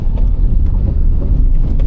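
A car lurches along a potholed highway diversion on the Mumbai-Goa Highway, giving a loud, steady low rumble with rattling road noise throughout.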